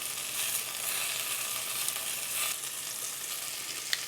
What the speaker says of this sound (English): We really just want to brown the pieces so they get a little bit of a crust on it